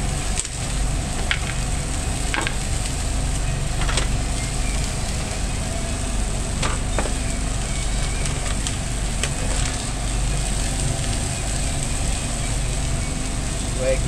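A bacon blue burger cooks on a griddle with blue cheese melting on top, giving a steady, loud sizzle and hiss throughout, with a low background rumble and a few small clicks.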